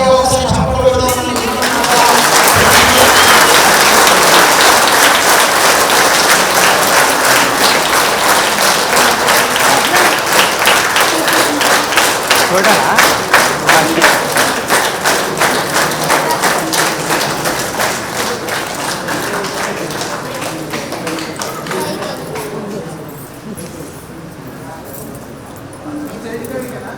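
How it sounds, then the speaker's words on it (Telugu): A large audience bursts into loud, dense applause at the inauguration of a pyramid meditation centre in Nagarjuna Sagar, holding strong for many seconds before gradually fading, with talk audible beneath. "గట్టిగా ఒకసారి చప్పట్లు కొడదాం."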